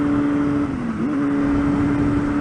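A 2006 Honda 599 Hornet motorcycle engine drones loudly and steadily at high revs, its pitch dipping briefly and then recovering, like a rider working the engine hard.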